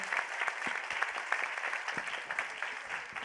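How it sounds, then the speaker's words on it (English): An audience at an OECD Forum panel on the Sustainable Development Goals claps steadily for the speakers. The applause is a dense, even patter from a conference crowd that runs throughout. "Can wrap up with applause for the panels and the discussants."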